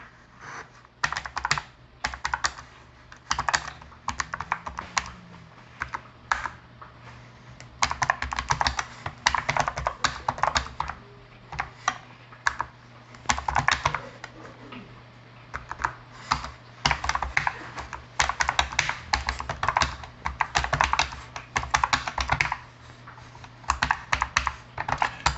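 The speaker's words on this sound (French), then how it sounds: "Donc je vais essayer de taper un texte," Typing on a Perixx PERIDUO-714 wireless keyboard, a steady run of close, crisp key clicks in irregular bursts with brief pauses, the space bar noisier than the other keys, with no talking.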